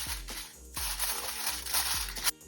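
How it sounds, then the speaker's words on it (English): Aluminium foil crinkles and crumples in loud bursts as it is pressed and sealed over a big bowl of caramel custard mixture, close up with soft thuds between the rustles. "Seal it with aluminium foil like this."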